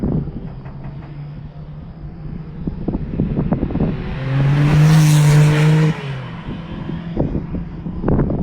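A Chevrolet Corvette C8 race car on a track at Eagles Canyon during a recon lap, its engine note rising as it approaches, roaring loudly past up close, then fading.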